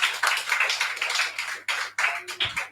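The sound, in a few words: congregation applauding in church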